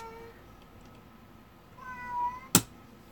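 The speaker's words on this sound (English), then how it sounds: "We're having cat issues today" A cat meows indoors during a live model-building session, a soft rising cry near the end followed by a sharp close bump or clatter, with a quiet room otherwise.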